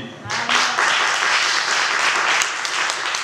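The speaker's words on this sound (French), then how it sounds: "Si toi tu es reconnaissant, tu peux applaudir." Audience applauding at a church New Year's Eve service: a loud, dense burst of clapping from many hands that holds steady for a few seconds, with a voice at the start.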